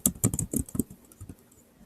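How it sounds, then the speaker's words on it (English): A computer keyboard is typed on in a quick burst of sharp, close key clicks that thin out into a few softer taps before fading. "So I would type in my short answer"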